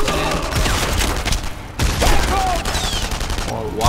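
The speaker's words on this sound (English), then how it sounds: "I haven't used a trench gun in the true sense of the word a long, long time" Dense, loud gunfire from a trench gun shotgun in the World War II shooter Enemy Front, with rapid overlapping blasts and battlefield noise throughout, plus faint sharp zips.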